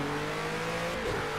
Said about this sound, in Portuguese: O roncar do carro